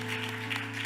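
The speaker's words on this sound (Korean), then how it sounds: "한번 박수로 감사의" Congregation clapping during a Korean church Friday evening worship service, a brief burst of dense applause over a steady background hum, with no voices.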